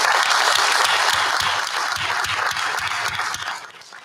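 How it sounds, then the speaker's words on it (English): Audience applause at a university board of supervisors meeting, a dense steady round of clapping that fades out toward the end, with no talk over it. "let's give her a round of applause"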